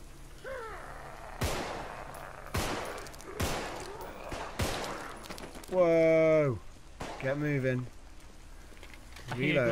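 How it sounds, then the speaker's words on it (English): Sharp single gunshots crack out at irregular intervals in the zombie game Contagion, followed by voices and strained, wavering vocal sounds. "Shots from you, Tom, by the way."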